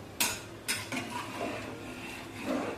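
Rice being stirred in a cooking pot, with two or three scraping, clinking strokes of a spoon against the pot followed by softer shuffling, close and fairly quiet.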